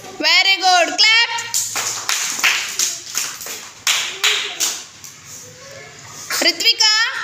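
Several sharp hand claps from young children in a classroom color activity, coming in short bursts between an adult's and kids' voices.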